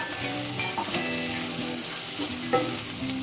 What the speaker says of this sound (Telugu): ఉడకబెట్టుకున్నటువంటి పనస గింజలండి, అలాగే బఠానీ మీడియం ఫ్లేమ్లో పెట్టి వేయించుకుందాము